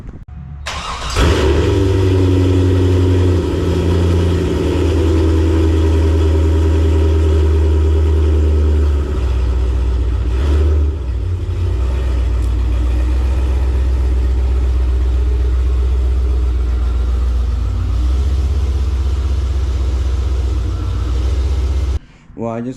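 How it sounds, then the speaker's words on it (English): A Chevrolet C5 Corvette's engine runs steadily and loud as the car is moved back a short distance, a deep continuous drone with a brief dip near the middle, under some talk. "I just pulled the car back a little bit"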